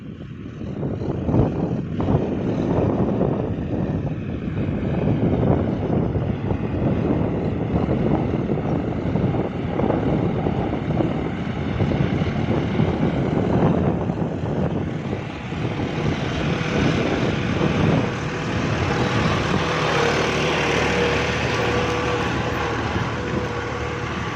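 A John Deere 5065E tractor pulls a 7-disc plough through a field with no front blade fitted, its engine droning steadily at moderate load, the continuous rumble mixed with wind noise throughout.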